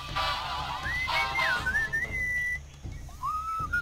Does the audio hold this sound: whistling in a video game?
yes